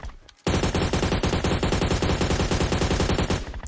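Rapid automatic gunfire in the mobile game PUBG Mobile, a loud close burst of evenly spaced shots starting abruptly and running continuously for about three seconds.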